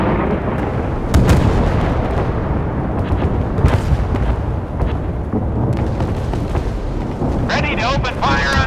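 Missiles fire and explode in the Force of Warships naval battle game, loud booming blasts and rumbling bursts over dense continuous combat noise, with a synthetic voice talking over the action.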